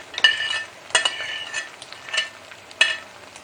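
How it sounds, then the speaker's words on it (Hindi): A spoon stirs and scrapes sticky makhandi halwa in a non-stick pan, giving a few distinct clinks and soft scraping strokes at an uneven pace, close and fairly quiet with no talking. "मुसलसल चम्मच थोड़ा चलाते हुए इसको मिक्स करना है।"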